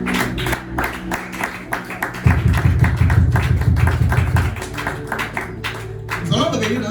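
A church congregation claps and acclaims Jesus, a dense burst of loud rhythmic clapping and cheering rising abruptly and swelling for a couple of seconds before settling into lighter applause with voices.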